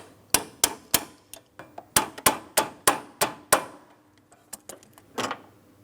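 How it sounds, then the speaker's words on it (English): Plastic clip on a 2004-2008 Pontiac Grand Prix 3.8L V6 A/C condenser being tapped into place with pliers: a run of about a dozen sharp, close metallic knocks at an uneven pace, then a short pause and a couple of softer taps. "Now on this clip, I do have to tap it in position, so I'm just going to use some pliers around it"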